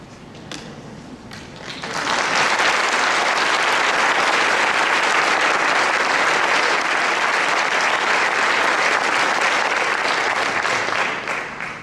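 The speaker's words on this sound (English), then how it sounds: "we can give you all a great round of applause" An audience at a Mu Alpha Theta and Science Honor Society induction gives invited guests a loud, sustained round of applause. It starts after a quiet moment and fades slightly at the end.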